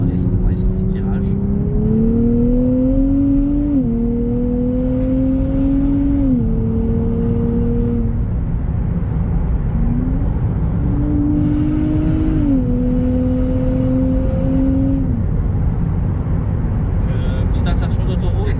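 A Nissan 400Z accelerates hard up a motorway on-ramp toward 100–110 km/h, its engine droning and rising through several gear changes with pitch dips between them, loud and continuous over road and wind noise.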